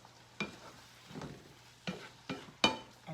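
Tomato sauce with basil and bay leaf simmering in a pot, a low, quiet bubbling hiss broken by a few sharp clinks and scrapes of stirring.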